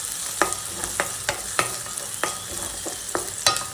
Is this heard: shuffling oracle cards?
no